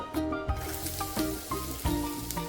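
Sliced onions with bay leaves, cinnamon, cardamom and cloves sautéing in sunflower oil in a pan for chickpea pulao, a steady close sizzle with a few soft stirring knocks and utensil scrapes, no talk.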